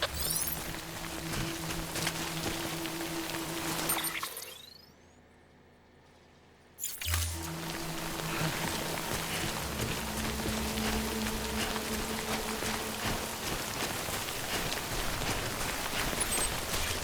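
Steady rain hiss in the video game Death Stranding, broad and continuous, cutting out to near silence for a couple of seconds midway before resuming; faint low tones run beneath.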